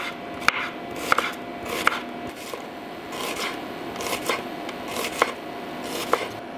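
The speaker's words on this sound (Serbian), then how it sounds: "Sečemo ovako na šnitice." A knife slices onions into thin rings on a board with a steady series of close, crisp cuts. Each cut carries a faint scraping rasp, and no one speaks.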